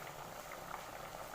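Nimki dough pieces frying in hot refined oil, a steady dense bubbling hiss throughout, fairly loud and close, with no voices.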